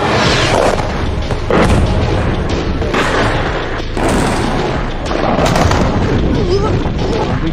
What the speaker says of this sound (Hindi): ये देखें जगह जगह मिसाइल गिर रहे हैं और हर 2 मिनट बाद मिसाइलों की आवाज़ें।